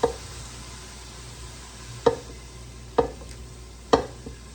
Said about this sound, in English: I am going to put the meat in.